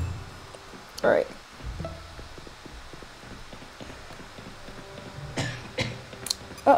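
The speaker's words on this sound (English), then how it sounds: "This dude coughed on me." A video game character coughs in a short burst, with a second cough-like burst later, both under game noise, hoof-like clip-clop sounds and scattered talk.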